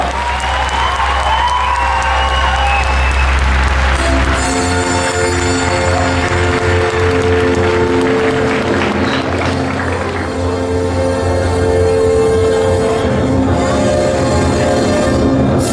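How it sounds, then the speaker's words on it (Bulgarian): Loud, continuous applause from a crowd greets the Rose Queen of Karlovo 2013, Zlatka Chomakova, with music rising underneath the clapping partway through. "от вас очаквам бурни аплодисменти за Царица на розите 2013 Златка Чомакова"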